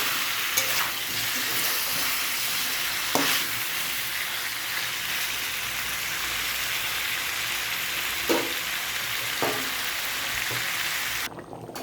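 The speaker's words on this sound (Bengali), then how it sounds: "আলুগুলিও দিয়ে দেবো, একসঙ্গে কষিয়ে নেব।" Potatoes, capsicum, garlic paste and ginger paste frying together in a pan make a dense, continuous sizzle with a few faint scrapes of the spoon, steady throughout and cut off sharply at the end, with no voices.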